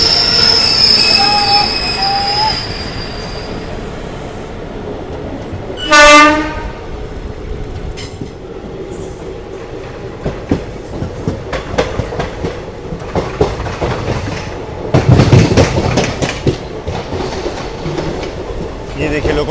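Gujarat Express running on rails, with loud metallic wheel squeal, a brief blaring horn and rhythmic clatter over the track, heard close and strong throughout.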